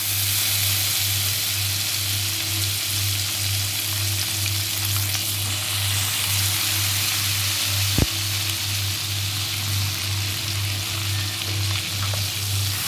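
Flour roasting in hot butter for a white sauce, a loud continuous sizzle and crackle held evenly throughout, with a low steady hum beneath and one sharp utensil knock near the middle.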